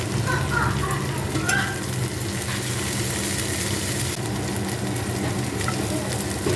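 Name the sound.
capsicum being stir-fried in a pan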